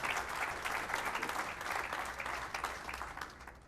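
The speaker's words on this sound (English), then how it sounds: "And you can clap for that," Broad, even applause from a crowd at a university groundbreaking ceremony, a steady wash of many hands clapping at a distance with no talk, gradually tapering toward the end.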